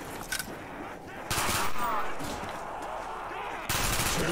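Rapid automatic gunfire rattles in a Call of Duty Zombies match, with short bursts early on and then a heavy sustained volley of shots, loud and close, while a player shouts over the shooting.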